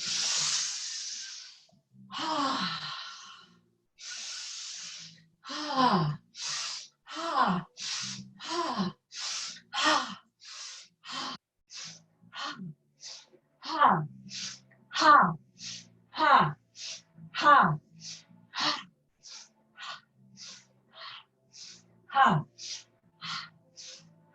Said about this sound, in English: Audible exhale.